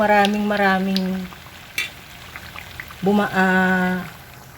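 Turon, sweetened banana rolls, fry in hot oil with a steady crackling sizzle running underneath a person talking, the hiss continuing through the pauses.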